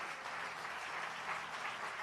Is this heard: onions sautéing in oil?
no